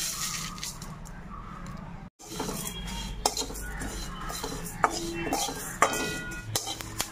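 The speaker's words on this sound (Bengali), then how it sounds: "শুকনো খোলায় এই মশলাগুলো ভেজে নেব" Whole spices — fennel seeds, dried red chillies, panch phoron and cumin — dry-roasted in a pan, with steady scraping and clinking of a spoon against metal and a brief pause partway through.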